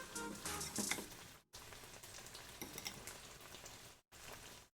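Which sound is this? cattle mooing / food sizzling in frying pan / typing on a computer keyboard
food sizzling in frying pan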